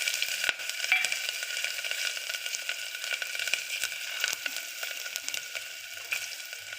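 Asafoetida, turmeric powder and dry spices crackle and sizzle in hot oil, a steady bright hiss with scattered sharp pops, alone with no voices.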